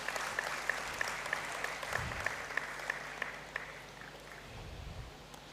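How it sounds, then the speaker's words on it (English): Applause from a graduation congregation audience in a great hall, sustained even clapping from many hands throughout, moderately distant with the room's echo. "Please let's give him another round of applause."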